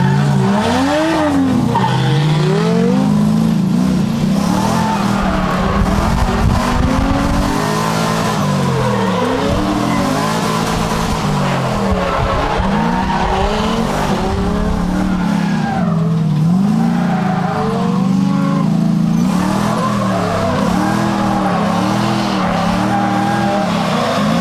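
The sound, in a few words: drift car hot lapping an oval track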